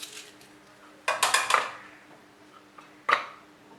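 A handy manual vegetable chopper working through cut onion, giving two short clusters of quick clattering plastic-and-blade chops, close and fairly quiet, with silence between.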